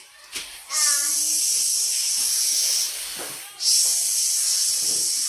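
Kindergarten children imitate the letter S together in a classroom, producing two long, loud, sustained group hisses separated by a brief pause, with faint bits of a voice before and between them.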